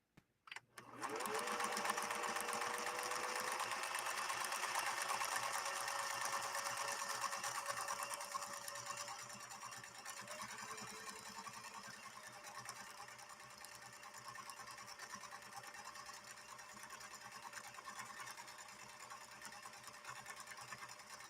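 A Husqvarna Viking 21E sewing machine stitches a bat pattern with a continuous close whirring hum that starts with a brief click, runs loud and steady, then settles slightly quieter partway through.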